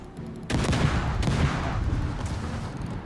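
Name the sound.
naval gunfire from World of Warships video game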